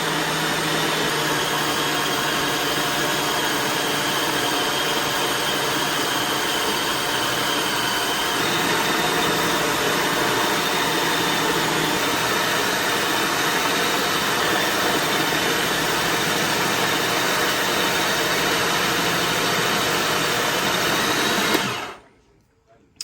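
A mixing machine kneads butter cookie dough with flour, a steady loud motor whir that runs unbroken and then cuts off abruptly at the end.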